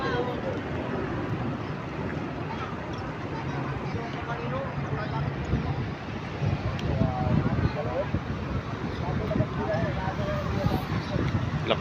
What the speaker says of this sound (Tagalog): Lakas ng hangin ngayon, matadyak.